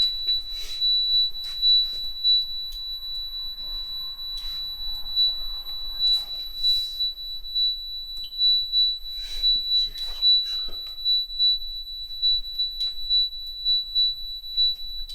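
A smoke detector sounds in a building, a steady high-pitched electronic tone holding throughout with intermittent chirps and knocks, while people talk faintly in the background.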